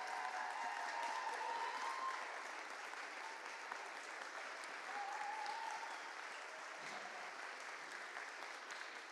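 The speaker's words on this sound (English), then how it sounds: "So give them all a big round of applause." An audience claps at the UK Barista Championship 2023 regional heat in London, a steady wash of moderate applause from a crowd, with a few faint voices and tones mixed in.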